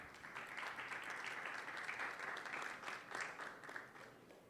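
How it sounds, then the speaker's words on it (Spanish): Soft, even applause from a conference audience at the Chile Media Show 2025 greets a speaker, a short steady patter of clapping heard at a distance and fading slightly at the end. "Un aplauso para Juan Pablo,"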